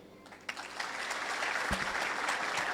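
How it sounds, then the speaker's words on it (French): Applause from the audience at a school year-end ceremony for an engineering school, a soft scattered clatter of clapping that starts thin and swells into a steady, moderately distant wash of hands. "Je les applaudis."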